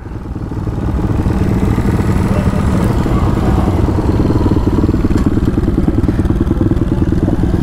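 A motorcycle with a modified exhaust runs steadily at idle, a loud, continuous low rumble with faint clatter, close by and alone from start to finish.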